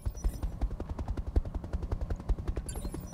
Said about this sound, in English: I hear a rotary cannon